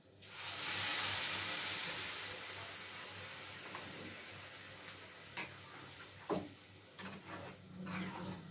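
Potatoes being stirred in a hot pan give a soft, steady hiss with a few scattered light scrapes and clicks near the end, quiet and close with no voices.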